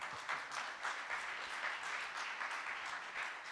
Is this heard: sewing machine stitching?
no